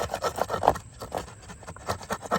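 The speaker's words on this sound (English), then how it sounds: "We're gonna use our rasp and our chisel to do the rest" A wood rasp files a halved cross-lap joint in wood, giving a series of close, rhythmic rubbing strokes at a steady pace, a brief lull midway, then more strokes.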